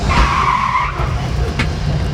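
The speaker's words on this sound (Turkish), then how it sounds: "Şimdi dördüncü vites frene basıyorum" A Bajaj Qute quadricycle brakes hard in fourth gear and skids, with loud tire squeal and road noise close by that fades into rumbling as it slows.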